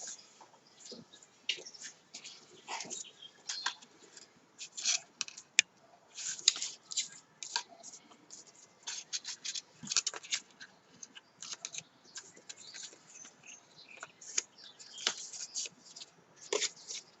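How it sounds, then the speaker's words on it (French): Scissors snip in a long run of crisp, irregular cuts straight along a sheet of card stock for a 3D hat-shaped greeting card, close and fairly quiet, with no talking. "Et je vais venir couper dans la longueur. Je rejoins mes deux bouts et je coupe tout droit."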